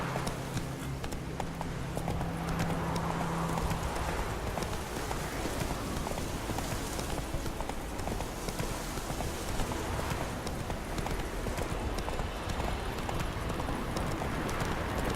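Roach, a horse in the video game The Witcher 3, gallops steadily with a continuous clip-clop of hooves over a dense, noisy ground bed, no pauses, and no talk.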